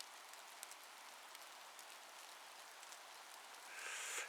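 Steady pouring rain in the wilderness on a mountainside, a dense continuous hiss of drops striking surfaces nearby, unbroken throughout and swelling slightly louder near the end.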